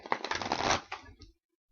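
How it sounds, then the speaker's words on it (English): A deck of playing cards shuffled close by, one dense riffling burst of about a second that ends with a soft tap and then silence. "All right, shuffle, shuffle, shuffle."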